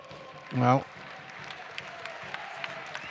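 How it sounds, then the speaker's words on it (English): A football crowd in a stadium stand briefly applauds a substituted player as he leaves the pitch, a short burst of distant clapping with a voice rising over it, then faint crowd murmur and scattered claps. "Chadwick gets a nice round of applause from the Tiny Wing stand as he goes down the tunnel"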